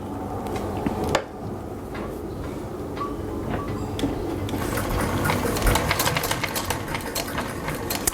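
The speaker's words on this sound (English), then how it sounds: "it's just straight stitch front and back, really simple machine" A simple straight-stitch sewing machine runs in a steady mechanical whir with faint rapid clatter, picking up intensity partway through, with occasional sharp clicks and no talk.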